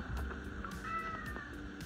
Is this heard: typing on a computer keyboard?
no